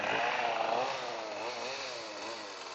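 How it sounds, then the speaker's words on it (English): A chainsaw runs nearby outdoors, its engine revving up and down in a continuous, loud, rasping whine with shifting pitch, no talking over it. "someone that is running a chainsaw, revving it up and down"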